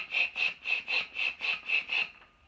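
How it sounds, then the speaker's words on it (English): Lightweight plastic hand pump inflating an ultralight float tube bladder, about nine even, rhythmic whooshing strokes of rushing air, close and clear with no voices. "all you hear is the movement of air rushing through this into inflating this bladder"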